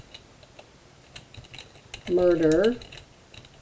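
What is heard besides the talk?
typing on a computer keyboard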